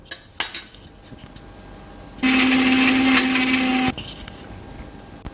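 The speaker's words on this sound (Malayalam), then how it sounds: "3 ഐസ് ക്യൂബും കൂടി ഇട്ട് കൊടുത്ത ശേഷം നമുക്ക് മിക്സിയിൽ അടിച്ചെടുക്കാം." A mixer grinder whirs loudly for about two seconds as it blends date juice with three ice cubes, preceded and followed by quieter clinks of the jar and lid.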